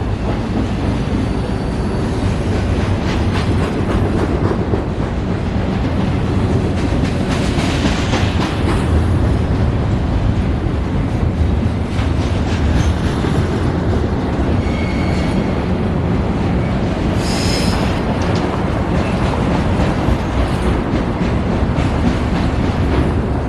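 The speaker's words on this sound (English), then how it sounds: "Pulling in now is the significantly shorter North Line train going to Everett." A North Line commuter train to Everett, in Seattle, rumbles loudly and steadily nearby, wheels clattering and brakes hissing as it rolls slowly into a station.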